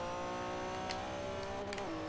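Race car engine in the Forza 4 racing game revving at high, steady pitch with gear whine, rising and dipping slightly near the end, loud and continuous with no talk.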